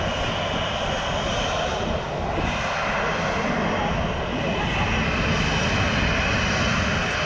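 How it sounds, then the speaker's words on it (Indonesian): A fixed-wing airplane taxiing toward the runway before takeoff at Maho Beach, its engines giving a steady, loud, continuous roar that holds level throughout with little change. "Sebelum lepas landas, pesawat akan melakukan proses taxiing menuju posisi yang tepat di landasan pacu."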